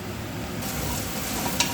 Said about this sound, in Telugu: ఆనియన్స్, పచ్చిమిర్చి వేసుకోవాలండి. బ్రౌన్ కలర్ వచ్చే వరకు వేపుకోవాలండి